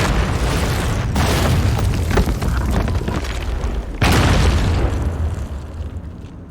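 A final colossus statue crumbles apart in Shadow of the Colossus, loud booming crashes and rumbling debris running continuously, with a second heavy burst partway through before the roar slowly trails off.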